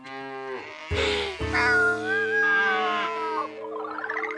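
Cartoon cows in a field mooing, several drawn-out, wavering lowing calls overlapping loudly one after another, with a brighter squeaky call at the end.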